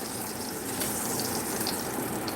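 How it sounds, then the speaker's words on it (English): Bacon grease poured from a skillet during a Southern breakfast cook, a steady, continuous liquid gush with a dense hiss lasting the whole stretch, fairly close and without any talking. "I'm going to pour up my bacon grease."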